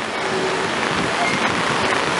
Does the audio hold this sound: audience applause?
no